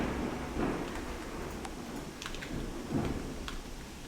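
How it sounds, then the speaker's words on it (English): Thunder rumbles low and distant with a couple of soft swells, under a steady hiss of rain. "Just thunder. That's not a gunshot."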